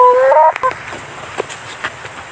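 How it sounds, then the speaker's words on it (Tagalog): A few brief clucks and squawks from chickens nearby, with a short high bird call at the start and faint background rustle. "Mayroon din po tayo mga manok."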